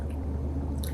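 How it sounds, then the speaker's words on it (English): A bite into a chicken wing, with a close, moist squishing chew filling the short moment, no talking. "So let's take another bite of my wing"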